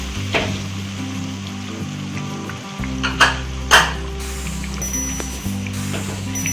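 Onions frying in ghee with turmeric: a soft sizzle under a low steady hum, with a couple of sharp scraping stirs against the pan and faint mechanical clicks.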